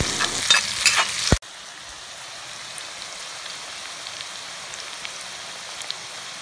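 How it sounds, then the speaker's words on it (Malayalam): Sliced onions sauté in a pan for chicken curry. A louder burst of activity is followed by a quieter, steady crackling sizzle with faint pops. "സബോള ഇട്ട് നല്ലോണം നല്ലപോലെ ഒന്ന് വഴറ്റണം"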